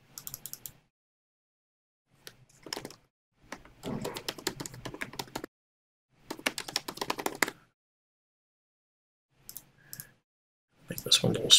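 Mouse clicks while editing a title in Avid Media Composer, heard as short bursts of quick, close clicking separated by silent gaps, with a denser cluster at the very end.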